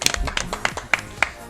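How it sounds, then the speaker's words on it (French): A brief patter of hand claps applauding a DJ on a night show, a small group clapping unevenly for a moment. "On peut l'applaudir bien sûr."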